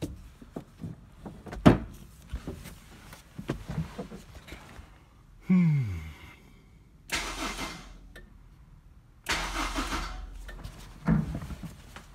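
Honda S2000 engine cranking over during a compression test with one cylinder plugged, several separate bursts of starter whirring, near and loud, set among clicks and knocks from work around the car.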